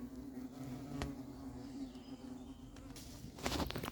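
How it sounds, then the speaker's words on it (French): Hornets buzz around a beehive entrance during bee feeding at an apiary, a steady low insect drone with a few brief louder passes close by near the end. "les frelons sont déjà en train de rentrer"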